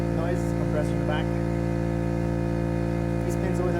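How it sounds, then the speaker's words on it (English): A steady mechanical drone with a constant hum runs under faint, intermittent speech, an air compressor motor humming continuously in the background of a garage brake job. "sorry about the noise, compressor in the back"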